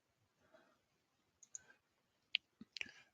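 Sparse mouse clicks from someone playing Railway Empire 2, a few sharp, close taps scattered irregularly, with a quick pair near the end and faint low background murmur between them.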